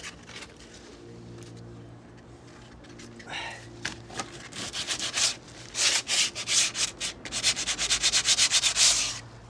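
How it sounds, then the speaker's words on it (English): Rotting window timber hand-sanded with coarse 80-grit paper: raspy scraping strokes start slowly, then speed into a fast, steady back-and-forth rhythm, close and loud over a low background hum. "Right, need to get that sanded down."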